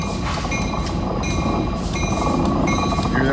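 A train rolls over rusty rails beside a fire-damaged site, making a loud, continuous rumble with rhythmic clatter and faint metallic ringing from the wheels. It sounds close and steady throughout, with no talking.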